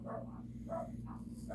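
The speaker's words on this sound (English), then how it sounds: "And of course the dogs are going to bark." Dogs bark indoors in a few short muffled yaps, spaced out and moderately distant, over a low steady hum.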